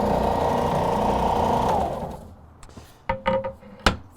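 A Ridgid EB4424 tabletop belt sander rounding a wood corner hums and whirs steadily for under two seconds, then winds down. A few sharp knocks and thumps from the wood and table follow.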